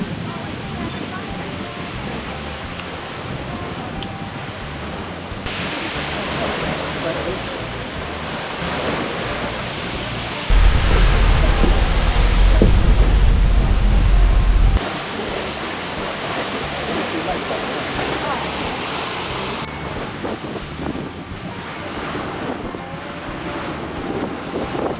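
Waterfalls in Milford Sound, New Zealand, heard from the deck of a cruise boat: a broad steady rush of falling water mixed with wind buffeting the microphone, swelling louder for a few seconds in the middle.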